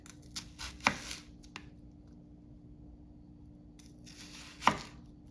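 A Calphalon chef's knife slices an onion in close, sharp cuts that land on a board. A few quick strokes come early, then a pause, then one more firm chop.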